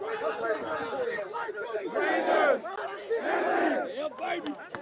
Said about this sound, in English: Love that cheering.